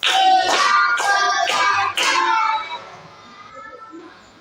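A group of children claps in rhythmic bursts, counting out a call-and-response pattern, then the claps fade into quieter room noise.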